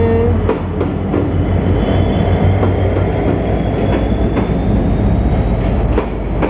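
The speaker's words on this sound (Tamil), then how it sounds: "ட்ரெயின் வருது." A train pulls into a Sri Lankan railway station on the Jaffna line, a loud, steady rumble with rhythmic wheel clatter and faint squealing, close by and filling the whole stretch without talk.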